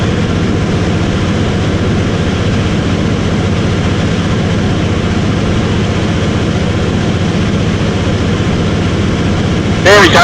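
A de Havilland Beaver's piston engine drones steadily during the climb, a loud, constant low-pitched roar heard from inside the cabin without a break.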